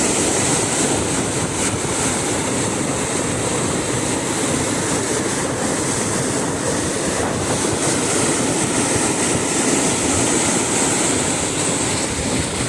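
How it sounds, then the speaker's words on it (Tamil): Floodwater gushing over the spillway of the overflowing Nagapaduvan village tank at Kariyalai, a loud, continuous broadband roar that holds steady throughout without pause. "இப்படி தண்ணி பாயுதப்பா"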